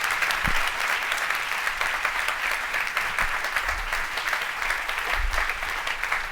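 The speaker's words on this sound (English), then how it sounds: "please join me in honoring them with a round of applause, please" Audience applauding two journalists at an event honoring the press, a steady dense wash of clapping that holds loud and even throughout with no voices over it.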